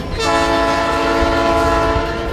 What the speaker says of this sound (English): It was the call of the train whistle that once drew Americans west.